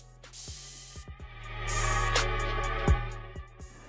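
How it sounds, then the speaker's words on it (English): Aerosol stain and water repellent is sprayed onto Air Max 97 sneakers in a few short bursts and one longer continuous hiss, close and fairly quiet, with light handling knocks between. "we're gonna add our premium stain and water repellent, Repel, onto the shoes."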